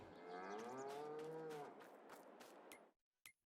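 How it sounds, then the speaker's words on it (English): Cattle in the Farming Simulator 22 video game moo in a long, loud, drawn-out call that fades, followed by a few short clicks and a brief silence. "Looks like we're getting plenty of manure from the moo cows."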